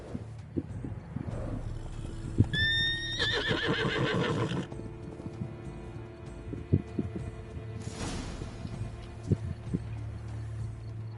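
Roach, Geralt's horse in The Witcher 3: Blood and Wine, gives one clear neighing whinny with a rising, wavering tail. Clip-clop hoofbeats and ambient game background continue around it, with no talk.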